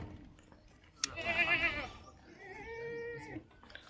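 Goats bleating while being loaded onto a vehicle at a livestock sale: a loud, wavering bleat near the middle, then a second drawn-out bleat, over background handling noise.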